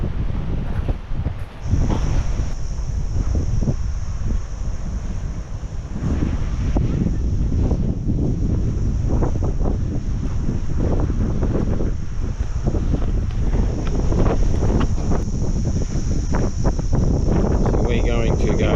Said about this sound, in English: A bit breezy today.